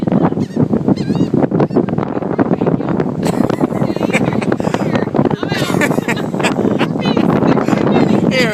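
Birds flock at a beach to grab thrown bread, with goose-like honks and squawks repeating close by over steady wind noise, while people talk throughout.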